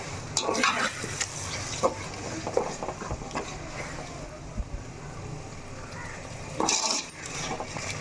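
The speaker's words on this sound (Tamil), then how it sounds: "தயிர் சேர்த்துட்டு நல்லா மிக்ஸ் பண்ணிக்குவேன்" Shrimp being stirred with yogurt in a pan for biryani, with irregular scraping and clinking of a spoon against the vessel, some louder knocks, under a soft background.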